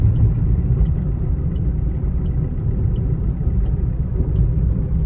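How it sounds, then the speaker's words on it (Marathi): A car speeds along a road toward a farmhouse for a haldi ceremony, its engine and tyre rumble a steady, loud, low drone throughout with no talk. "तेज रफ्तार से हमारी गाड़ी जाती हुई फार्म हाऊस के ओर"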